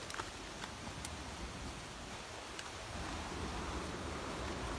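Sea waves wash and hiss steadily nearby, a broad continuous surf noise with a few faint clicks and no voices.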